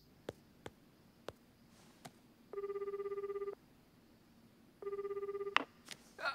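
A telephone bell rings in two separate trilling bursts, clear and fairly close, after a few faint clicks and taps in an otherwise quiet room with no one speaking.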